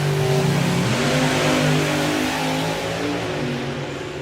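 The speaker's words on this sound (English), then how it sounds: "So it will be Colin going first with the Morris Boys Camaro." Drag racing Camaro at the Easter Nationals finals roars down the strip, a loud revving engine note that climbs and shifts pitch, then eases slightly toward the end.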